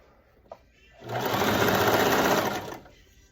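A sewing machine stitches bias tape onto a backless sequin dress, running in one steady, loud, rapid burst of about a second and a half that begins after a small click.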